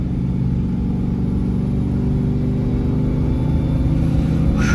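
A supercharged Hemi station wagon roars at wide open throttle, a loud, steady engine drone with continuous blower whine running unbroken and close throughout.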